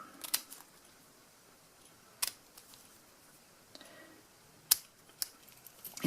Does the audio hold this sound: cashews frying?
no